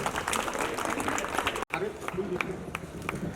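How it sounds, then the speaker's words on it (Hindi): Audience applause at an inspirational awards ceremony welcoming a presenter, steady clapping from a crowd that is briefly cut, then continues with voices mixed in. "तो इनका जोरदार तालियों से स्वागत किया जाए"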